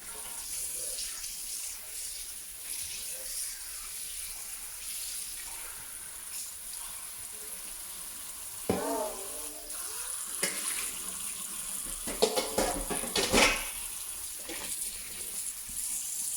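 Water runs steadily from a tap while cabbage is rinsed for kimchi, a constant soft hiss with splashing and sloshing bursts later as the leaves are handled under the stream.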